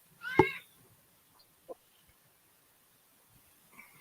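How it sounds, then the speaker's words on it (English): A single loud, close cat meow with a harmonic, drawn-out tone rings out near the start, followed by a few faint, scattered small sounds in a quiet room. "Seems like the cat wants to talk."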